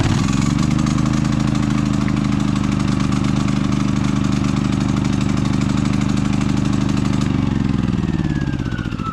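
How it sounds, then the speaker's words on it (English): A portable inverter-type generator with electric and remote start runs close by, a loud steady mid-pitched engine drone with a rapid rhythmic pulse that holds for several seconds, then steps down and eases lower near the end. "But it's the inverter type generator."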